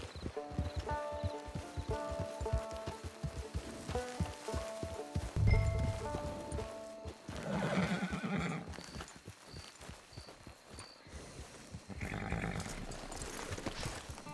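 A horse's hooves clip-clop in a steady rhythm in Red Dead Online, broken by loud whinnies and snorts, with music and light rain-like hiss in the background.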